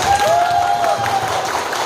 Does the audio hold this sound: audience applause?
yes